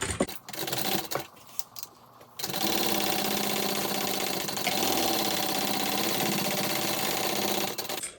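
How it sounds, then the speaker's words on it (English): A sewing machine runs steadily, stitching a second row along the seam of a fabric handbag; after a couple of seconds of stops and starts it hums continuously and close for most of the clip. "I am going to do 2 rows of stitching like I do on most of my bags"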